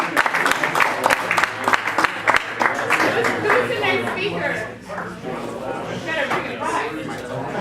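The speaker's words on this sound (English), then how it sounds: "let's give David a round of applause." A room of attendees at a business networking presentation claps after a speaker, brisk clapping at first that fades away while people begin talking.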